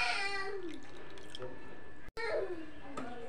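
Cold water poured into hot caramelized sugar in a pan, giving a loud hissing, bubbling sizzle with falling tones that fades, breaks off briefly, then flares again with a second pour.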